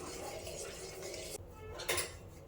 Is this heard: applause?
no